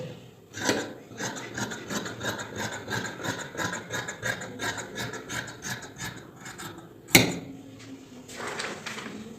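Fabric for a djellaba is cut with a rapid, rhythmic rasping series of close strokes, then a sharp louder snap near the end followed by a softer rustle.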